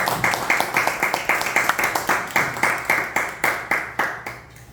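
An audience in a church hall claps to welcome a pastor, a dense round of rhythmic clapping that carries on steadily for several seconds and then thins out.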